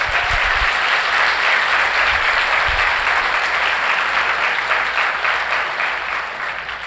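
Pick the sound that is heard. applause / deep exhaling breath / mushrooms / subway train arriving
applause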